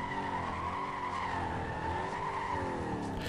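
A Corvette C6 in Need for Speed Most Wanted revs and skids, its engine droning with wavering pitch under a sustained tire squeal, loud and continuous without talk.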